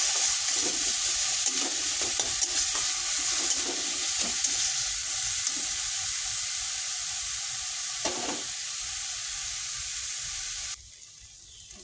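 Potato mixture for aloo chop sautéed in a pan, a continuous close sizzle with scraping stirs and occasional knocks, steady until it cuts off abruptly near the end.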